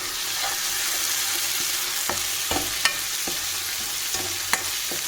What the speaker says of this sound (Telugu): ఆయిల్లో బాగా వేగాలి టమాటా అనేది.